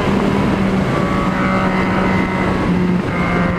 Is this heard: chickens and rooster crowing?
no